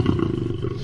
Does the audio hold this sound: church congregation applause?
no